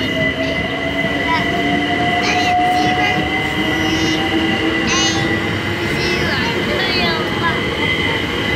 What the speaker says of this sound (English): There's the train. There's the train.